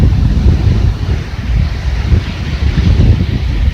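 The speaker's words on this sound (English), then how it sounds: "we got the wind, not as bad as the other day" Strong wind buffets the microphone at a beach in Englewood, Florida, with a steady low roar and gusty rumble, surf blending underneath, loud and continuous with no talking.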